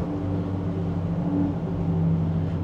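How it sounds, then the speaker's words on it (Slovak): Steady low engine and stock exhaust drone from a VW Golf 8R without the Akrapovič performance package, heard from inside while driving on country roads, even and continuous with no talking. "aj tento klasický výfuk má veľmi dobrý zvuk"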